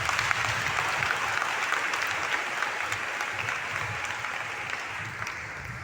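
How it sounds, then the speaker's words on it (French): A church congregation applauds steadily during a Jericho prayer gathering, a dense, continuous wash of clapping at moderate level that holds without pause and tapers only slightly toward the end. "On peut acclamer le Seigneur"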